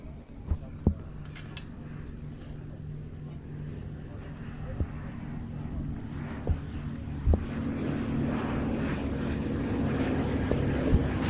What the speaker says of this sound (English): John Gowdy in the Westland Lysander Mark III